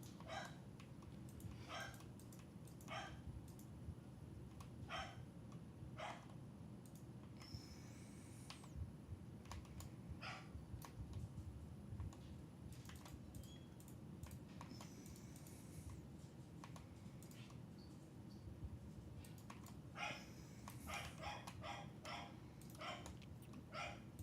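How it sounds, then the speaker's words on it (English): A dog barks repeatedly in irregular bursts, some short and sharp, others in quick runs, moderately distant over a steady low background hum. "Oh, my dog is freaking out about something."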